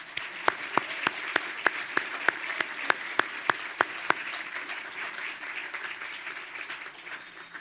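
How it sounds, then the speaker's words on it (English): At a Minneapolis College of Art and Design winter commencement, an audience gives a steady round of applause for a bagpiper, with sharp, regular claps standing out above the crowd's clapping before it fades. "let's give one more round of applause for our bagpiper, Tom."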